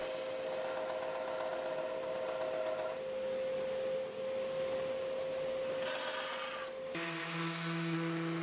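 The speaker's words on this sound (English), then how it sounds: "I can sand the excess wood away and round everything over so it's easy to the touch." Power sander smoothing away excess wood on a homemade log splitter, a steady whining hum with a constant tone that shifts in pitch and load a few times as pressure changes, running continuously without voices.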